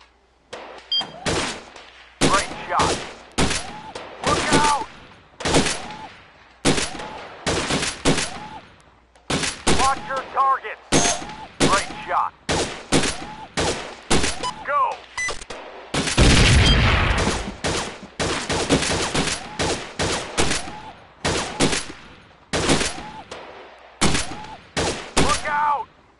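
Rapid bursts of gunfire crack through a shooting video game, dense volleys of shots with short pauses and one heavier blast midway, loud and close throughout, with game voice callouts in between.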